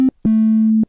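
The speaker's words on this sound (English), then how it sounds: "You hear the 8-bit noise, but there's still this, which you can kind of hear the humming." An 8-bit sound sample plays back as a loud, pure electronic buzzing tone, one short beep then a longer sustained note, each ending in a click.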